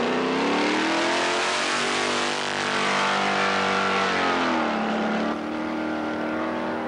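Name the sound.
rally car engine accelerating on forest stage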